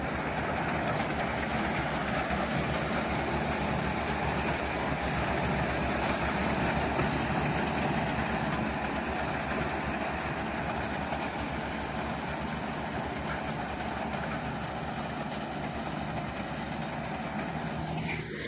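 A tractor engine idles with a continuous low rumble and hum, unchanging throughout and moderately distant.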